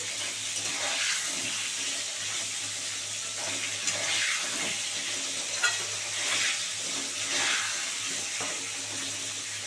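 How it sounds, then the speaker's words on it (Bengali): Pointed gourd (potol) pieces fry in hot oil over a raised gas flame, giving a steady, loud, close sizzling hiss with faint stirring scrapes and no talking. "পটলগুলো খুব সুন্দর করে ভেজে নেব গ্যাসটা একটু বাড়িয়ে দিলাম"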